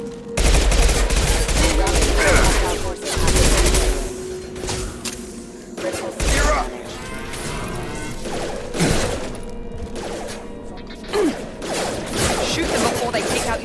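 A firefight in the video game Mass Effect 2, with loud, dense bursts of automatic gunfire and scattered single shots close by, joined by mechanical clanks and impacts, and voices heard beneath the shooting.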